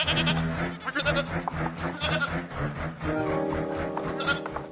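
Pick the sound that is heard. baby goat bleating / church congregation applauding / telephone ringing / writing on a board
baby goat bleating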